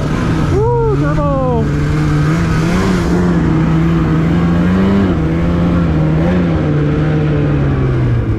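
A turbocharged Polaris 165 Pro-RMK Boost snowmobile accelerating, its loud, steady engine drone rising and holding close by, with a brief whooping shout near the start.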